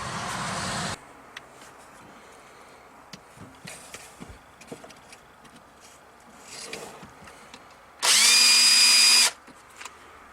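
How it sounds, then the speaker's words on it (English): A power drill bores a small hole in rubber, whining loudly for about a second at the start, then quiet rustling and small clicks, then another loud burst of drilling lasting just over a second. "Just drill a little hole there."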